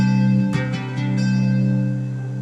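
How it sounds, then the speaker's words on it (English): Guitar notes tapped on the 6th, 5th, 4th and 2nd strings sound as four separate plucks over a steady sustained low drone, fairly quiet with no talking. "just tap the 6th string, 5th string, 4th string, and 2nd string,"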